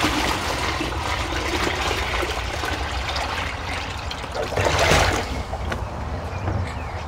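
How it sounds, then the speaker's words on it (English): Thick comfrey liquid trickles and drains from a tap on a container into a watering can, a steady watery running sound with a brief stronger gush near the end, heard alone without talk. "Still a drop left in there, so I'm going to get some into a watering can."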